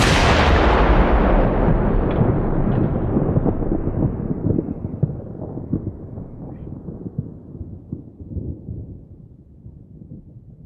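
Thunder sound effect layered with a gunshot: a heavy initial blast rolls into a long, crackling, rumbling tail that gradually thins and fades, with scattered sharp crackles along the way.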